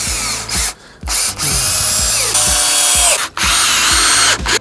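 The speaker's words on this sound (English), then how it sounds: "I always screw the miter together first" Up close, a power drill drives screws into a deck railing miter joint on a Veranda railing system, sounding as loud whirring spins that repeatedly stop and restart, with short pauses between bursts.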